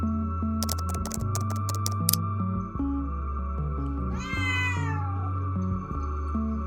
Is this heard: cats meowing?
yes